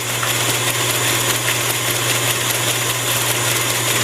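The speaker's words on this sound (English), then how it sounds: "50, let's go to 60 now. Really pushing this little lathe." A small lathe runs flat out at high speed while dressing a diamond grinding wheel, giving a loud, steady mechanical whine and hum with constant vibration and no voices.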